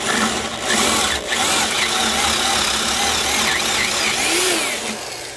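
A corded Porter-Cable 2610 7-amp drill runs steadily at up to 2500 RPM, giving a loud continuous motor whine with slight pitch wavers and a brief dip early on, with no talking.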